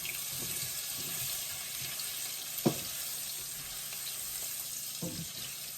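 Garlic frying in a pan, a soft steady sizzle and hiss with a few faint clinks of a utensil against the pan.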